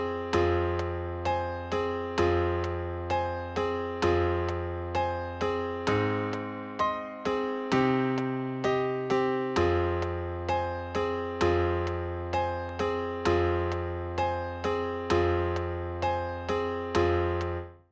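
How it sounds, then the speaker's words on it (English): Two piano tracks sequenced in Reason DAW play a steady chord progression, evenly struck block chords in a regular repeating rhythm, clean and alone with no talking, ending on a fade. "So we just got two pianos here right now"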